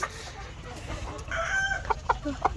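Chickens cluck and squawk nearby in short irregular bursts, one call rising sharply, over a low background rumble; one hen has just laid an egg.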